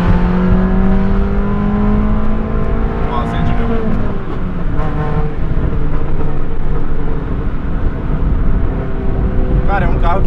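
A Ford Fiesta fitted with a Honda VTEC engine revs loudly nearby, its rising and falling engine tones sweeping up and down, with sharp crackles near the end.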